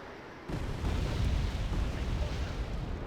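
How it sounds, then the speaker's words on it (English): Artillery barrage in the Wargame: Red Dragon Second Korean War campaign: a dense, rumbling roar of explosions breaks in suddenly and keeps on as a heavy, continuous low boom. "Hopefully, this is the end of that damn artillery."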